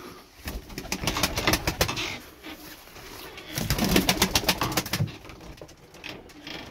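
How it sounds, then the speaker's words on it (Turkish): Tumbler pigeons (oyun kuşları) cooing and fluttering, with bursts of sharp wing claps and rustling in two clusters amid soft background cooing, close by. "Çok güzel oyun kuşları."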